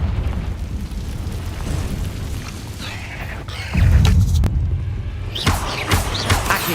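Confringo spell explosions in the video game Hogwarts Legacy: a rumbling background, then a heavy booming blast with a deep low roar, followed by further sharp bursts and crackling impacts, loud and close.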